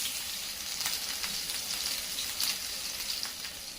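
Onion-tomato paste hitting hot oil with spluttering mustard seeds and cumin for an egg curry, a steady close-up sizzle with crackling pops throughout, no talk.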